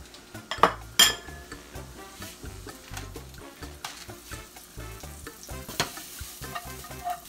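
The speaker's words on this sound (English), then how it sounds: "Add the onions first." Onions fry in a hot pan for mahi mahi fajitas, giving a steady soft sizzle broken by clinks and scrapes of a utensil against the pan, with a couple of sharper knocks early on.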